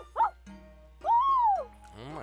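A dog named Katara barks and yips outside a shop in a visual novel game, two short sharp calls followed by a longer rising-and-falling whining bark, close and clear.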